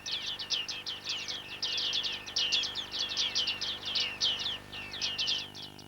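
Bearded tit giving loud, ringing pinging calls in quick repeated bursts, close and clear over a faint steady background, with no voices.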